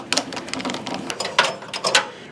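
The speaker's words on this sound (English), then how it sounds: "Very simply going to remove those two Phillips head screws." Two Phillips head screws being backed out of the waterway at the bottom of a residential FT series boiler, giving repeated close, faint ratcheting clicks and scraping metal ticks in an irregular rhythm, with no speech.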